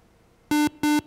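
Two short, loud electronic buzzer blasts in quick succession sound alone, marking time running out in a televised quiz game.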